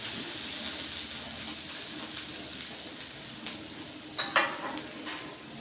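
Onion, green chilli, mustard seeds and curry leaves fry in hot oil with a steady sizzle and occasional stirring scrapes, plus a couple of brief louder clatters near the end.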